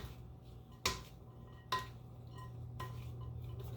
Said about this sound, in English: And I'm gonna give this a nice toss to mix it up a little bit.